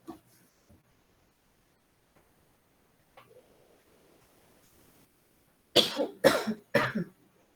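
Several harsh coughs burst out in quick succession near the end, loud and close, after a mostly quiet stretch of faint ticks and rustling in an online statistics class.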